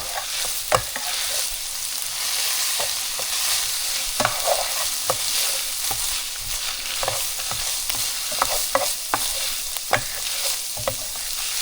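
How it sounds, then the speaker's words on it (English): Ground beef and onions frying in a pan while being stirred, a steady sizzle broken by scattered scraping clicks of the utensil against the pan. "just go ahead and mix it with the rest of the beef."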